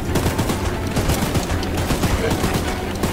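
Choo Choo Charles game gunfire against a mutant spider train, loud repeated short bursts of shots packed closely together, with steady clatter across the whole stretch.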